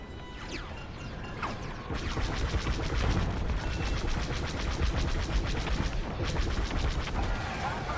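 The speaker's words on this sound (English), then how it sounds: "Taking enemy fire." Rapid blaster fire from enemy starfighters in a Star Wars Squadrons space combat mission, a dense stream of repeated shots and impacts over a loud engine roar, continuing almost without pause.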